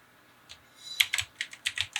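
Quiet typing on a computer keyboard, a quick series of sharp key clicks in an irregular rhythm, close and isolated.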